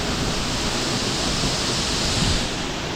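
A waterfall in a Bali creek rushes steadily and loudly for the whole span, a dense, close, continuous roar of falling water with no voices.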